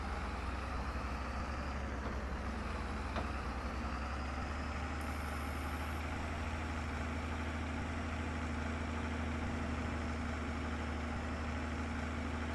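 A tractor engine idles steadily in Farming Simulator 22, a low, even rumble that holds without change for the whole stretch, fairly quiet and steady with no voices.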